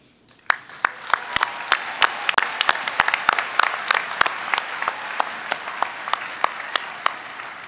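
At a university commencement, master's degree graduates receive applause: a sharp, sparse clapping with distinct individual claps standing out over a softer background patter, starting abruptly and continuing steadily.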